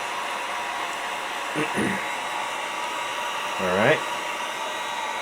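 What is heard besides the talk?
heat gun drying paint on a model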